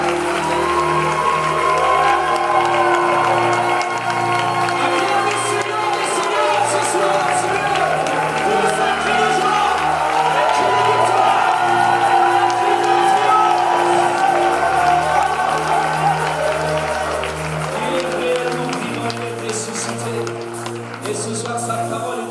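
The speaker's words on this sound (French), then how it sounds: "Acclame Jésus ce soir. Acclame le roi de roi ce soir." A church congregation at a Pentecost service claps and cheers for Jesus, with sustained applause and crowd noise mixed with voices and music carrying on throughout.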